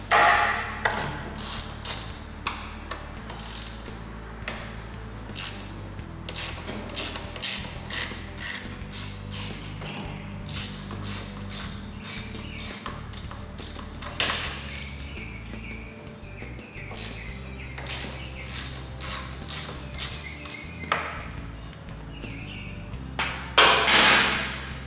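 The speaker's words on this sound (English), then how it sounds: "So we'll take all 4 of those bolts loose and we'll slide that fork out of there." Tools work loose the four fork pinch bolts on the top triple clamp of a 1986 Honda XL600R motorcycle, giving a dense run of close metallic clicks, ratchet ticks and taps that continues steadily throughout, with no talking.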